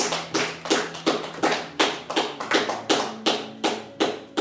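A church congregation during a worship service claps in a steady, rhythmic beat, sharp handclaps repeating about twice per second, loud and close, with a faint sustained tone underneath and no talking.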